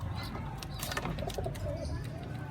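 Soft, low cooing of pigeons after feeding, several murmured coos close by under a faint background hum.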